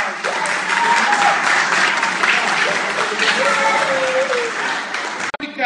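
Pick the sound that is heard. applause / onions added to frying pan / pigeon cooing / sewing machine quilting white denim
applause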